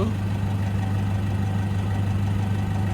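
A Toyota Hilux Vigo Champ 2.5-litre diesel pickup engine idles steadily and close by, a constant low rumbling throb with no revving or voices throughout.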